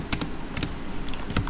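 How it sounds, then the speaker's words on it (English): Quick keystrokes on a computer keyboard click in small bursts of two or three, close and crisp over a light background hiss, with no talking. "I'm typing faster and I make mistakes"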